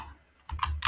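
Keys on a computer keyboard being typed, a short burst of a few clicks in the second half following a quiet start, close and moderately loud with no talk.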